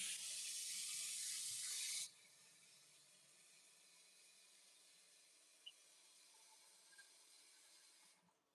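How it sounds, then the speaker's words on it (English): A kitchen tap runs for about two seconds, a loud close hiss of water filling a cooking pot used for boiling potatoes, then shuts off and leaves quiet room tone with a couple of faint clicks. "I'm just gonna add a little bit more water."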